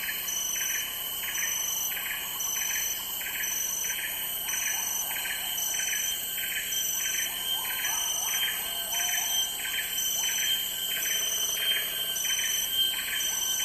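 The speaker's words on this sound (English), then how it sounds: "It's the dawn chorus." Dawn chorus in the Borneo rainforest, with dense layered chirps and rapidly pulsing repeated calls that continue steadily throughout, with no voices present.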